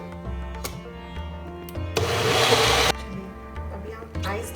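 A Magic Bullet blender grinding pineapple for a virgin pina colada bursts into a loud, rough whirring grind for about a second in the middle, with quieter kitchen noise and a hum before and after.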